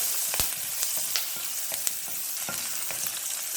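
Onions and shallots sautéing in oil for moong dal sambar give a steady, moderately loud sizzle, with a few faint clinks from a spoon stirring the pan.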